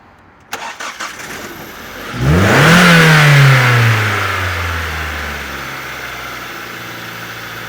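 A Mazda 626 with a 2.0 DOHC engine and a burnt head gasket cranks with a few clicks and catches. It then revs up loudly, wavering and uneven from a misfire, before the revs fall back to a rough idle.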